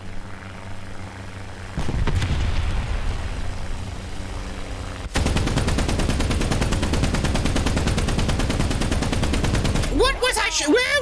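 Machine guns fire in a video game air battle in long, rapid, continuous bursts over the steady drone of aircraft engines, loud and close, ending with a brief voice near the end.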